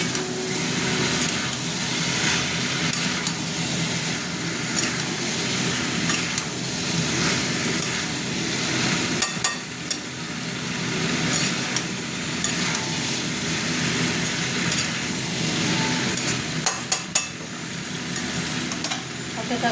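Vegetarian spice masala sautéing in oil in a pan, a steady close sizzle and frying hiss with occasional stirring scrapes and clinks running throughout.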